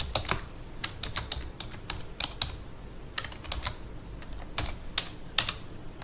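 Someone types Java code on a computer keyboard, a close, irregular patter of crisp key clicks in quick bursts with brief gaps between them.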